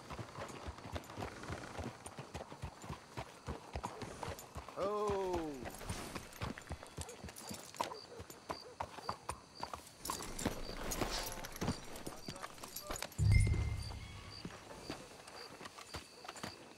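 Steady clip-clop of horse hooves trotting along in Red Dead Redemption 2, with a brief horse whinny and snorting mid-way and a low thump near the end.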